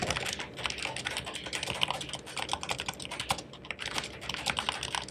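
Rapid, continuous clacking of a mechanical keyboard being typed on, close up, with brief pauses between bursts.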